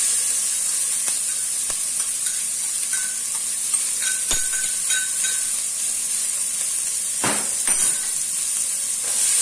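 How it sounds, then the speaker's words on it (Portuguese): Onion and garlic sauté in olive oil with a constant bright hiss and sizzle. A few utensil clinks and scrapes come through near the middle and end, and no one speaks. "Só deixando a cebola murchar um pouco."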